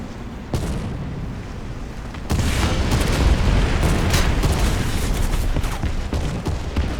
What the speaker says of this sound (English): I'm about to get wrecked by artillery, by the way.